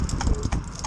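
Hooves of Jacob, a traditional cob horse in training, give a few quick clip-clop footfalls, close and moderately loud, over a brief windy background.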